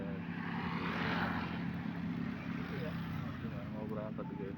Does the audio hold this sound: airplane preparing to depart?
yes